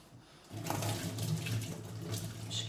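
Boiling water from an electric kettle poured over kitchen utensils, a steady close splashing stream that starts after a brief quiet moment and runs on evenly.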